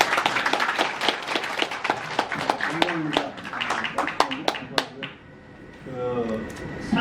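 An audience at a seminar on Korea's national crisis claps in sharp, separate, fairly close hand claps that thin out and stop, followed by a person speaking.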